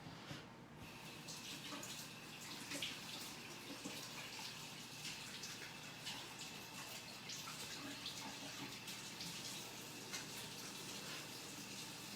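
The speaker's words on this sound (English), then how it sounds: "Just gonna wash my chocolate hand off here." Water runs from a kitchen tap as a chocolate-covered hand is washed under it, a steady continuous rush with faint splashing, close and alone without talk.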